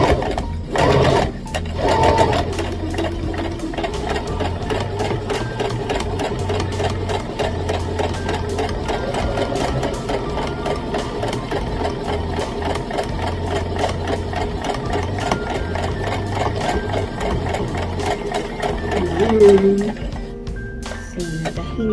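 A sewing machine stitches a homemade fabric face mask, a steady mechanical whirring hum that runs almost without a break for about twenty seconds, with a brief louder burst near the end.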